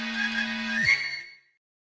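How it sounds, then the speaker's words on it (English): A phone ringtone sounding for about a second, with a bright electronic melody over a steady low tone that bends down and cuts off, then silence. "I nearly jump out of my skin as my phone goes off."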